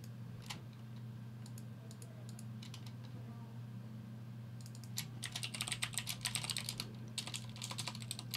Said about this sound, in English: And the typing of my cherry blues.